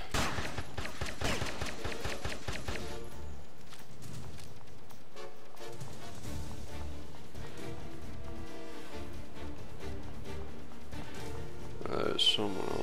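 Rapid bursts of gunfire in the video game Headhunter, dense and loud at first then continuing as scattered shots and clatter under steady game music, with a voice talking over it.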